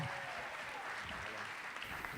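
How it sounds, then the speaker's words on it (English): A crowd at a testimony gathering applauds in a steady, moderately distant wash of clapping, faint and even throughout, without distinct cheers standing out. "I want everyone to, to cheer and to just really give them all the love you can"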